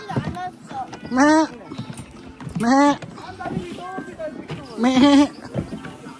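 A goat bleats three times at a steady pace in Korea, each cry loud and wavering, with quieter shuffling noise between the calls.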